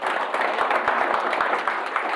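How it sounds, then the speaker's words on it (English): Seminar audience applauding, a close, full burst of many hands clapping with a few distinct sharp claps standing out, continuing steadily throughout. "let's give Neil a round of applause for doing that."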